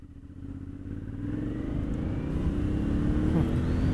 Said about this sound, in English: I love the burbly sound of the Aprilia's engine.